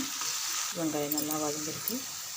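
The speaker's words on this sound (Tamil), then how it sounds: "வெங்காயம் பாதி அளவுக்கு வதங்கினா போதும். வெங்காயம் நல்லா வதங்கிருக்கு." Onions sauté in oil with mustard seeds for a prawn gravy, a soft steady sizzle with faint stirring clinks and a brief voice over the pan.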